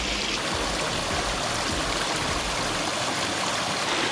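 A stream flows steadily near Neuburg am Inn in Germany, its broad, continuous rush of water filling the whole recording at close range with no voices.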